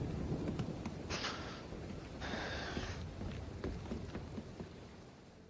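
Thunderstorm in the Assassin's Creed Freedom Cry video game: a steady hiss of heavy rain and wind with low rolling thunder rumbles, fairly quiet and with no voices.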